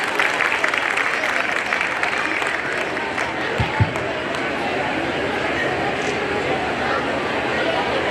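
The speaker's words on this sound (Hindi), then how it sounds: "जोरदार तालियों से स्वागत करें" An audience at a talk by a child brain development expert applauds a speaker's welcome with dense, continuous clapping that fills the room, loud and sustained, with a couple of brief thuds midway.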